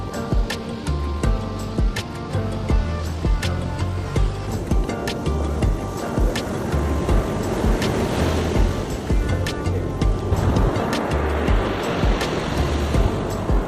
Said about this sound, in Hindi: बारिश और तेज हवा के कारण वेव्स काफ़ी स्ट्रॉन्ग थी